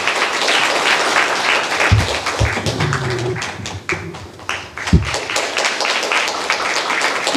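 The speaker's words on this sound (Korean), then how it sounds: "박수로 축하드립니다." Church congregation applauding at a service honoring a retiring pastor, a dense patter of many hands clapping steadily with a few louder thumps and taps mixed in, close and continuous.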